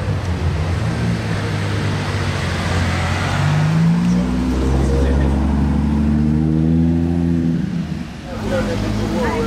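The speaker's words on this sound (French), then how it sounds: "GT3 Touring avec l'aileron levé." A Porsche GT3 Touring sports car drives past on a Monaco street, its engine note rising and falling as it approaches and passes, loud and near, with people talking over it.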